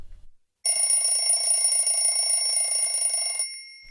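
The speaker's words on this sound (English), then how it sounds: "The alarm goes off, but James is already up." An alarm clock goes off with a steady, shrill electronic ring that holds for about three seconds alone in a quiet room before cutting out.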